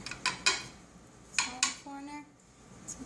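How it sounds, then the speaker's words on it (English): Utensil cutting into the corner of a baked nectarine dump cake cobbler in a pan, a few sharp close scrapes and clinks of metal against the dish, with a soft faint hum between them and no talking. "I'm just going to cut a little corner of it"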